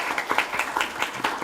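Audience at a live panel discussion applauding, a dense patter of many hands clapping at moderate distance, brief and without voices.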